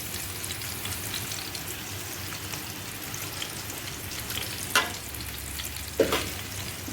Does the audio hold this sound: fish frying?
yes